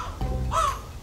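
A single close crow caw rings out sharply outdoors in the countryside, played as a prank sound during a photo shoot, with no talk over it.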